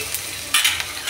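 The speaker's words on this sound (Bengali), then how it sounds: "আমি এখন দেব তেলের মধ্যে একটু আদা দিয়ে নাড়িয়ে চাড়িয়ে" Ginger sizzles in hot oil while a spoon stirs it, a short burst of frying hiss with two quick scraping strokes close up.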